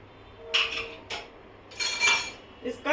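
Pressure cooker lid opened after cooking jackfruit, a few metallic clinks and scrapes in short bursts, fairly quiet with brief pauses between.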